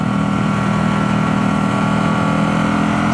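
A Ducati Supersport S motorcycle engine hums in a steady, even drone while riding, holding a constant pitch with no change in throttle.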